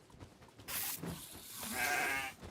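A goat in the video game Kenshi lets out two bleats, the second longer and more nasal, close and fairly loud.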